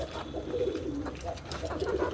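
Adult pigeons coo in soft, rolling repeated phrases close by, several birds overlapping with faint chirps and a steady background hum.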